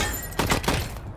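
A short burst of gunfire in the video game Wasteland 3 rattles for roughly half a second, close and moderately loud, then cuts off.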